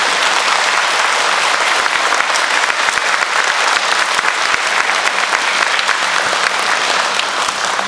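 An audience at a school Veterans Day program gives the color guard a big round of applause: loud, dense, steady clapping filling the room from start to finish, with no voices.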